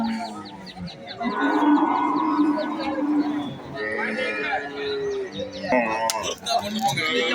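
Cattle low repeatedly at a busy outdoor cattle market in Valliyoor, Tirunelveli, with people talking nearby and occasional bird calls mixed in.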